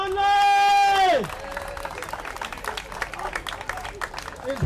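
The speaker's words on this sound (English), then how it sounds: "one more round of applause for Daniel Conley!" Outdoor crowd at a Roslindale National Night Out event applauds and cheers after a sustained tone fades, with steady clapping and scattered whoops at moderate volume throughout.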